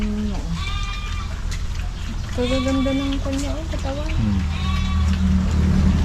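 Goats and sheep in a ranch pen bleat in several long, wavering calls, close and clear over a steady background, while a person talks throughout.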